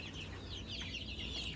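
Kampung chickens cluck softly inside a backyard coop, a continuous faint chatter of overlapping calls at moderate distance with no talking.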